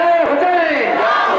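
Crowd at a religious jalsa commemorating Hussain in Hyderabad chanting a slogan in unison, a loud, sustained massed shout rising and falling over the whole moment.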